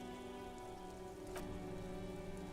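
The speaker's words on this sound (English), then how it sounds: "This rain will not let up anytime soon." Steady rain falls on surfaces in the Disco Elysium video game, a dense, even hiss that continues unbroken throughout at low volume.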